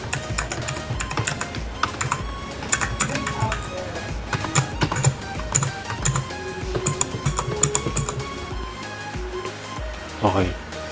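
Keys on a T-Wolf T20 RGB gaming keyboard clack rapidly and irregularly with a mechanical-style click added by software, close up, while someone talks over the typing.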